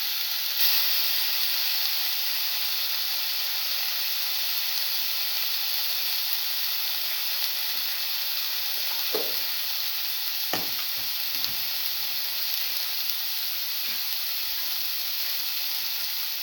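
A coconut mixture for a cinnamon scrambled egg stir fry sizzles steadily in a hot pan, a constant bright hiss with a few faint scrapes and knocks of stirring, no voices.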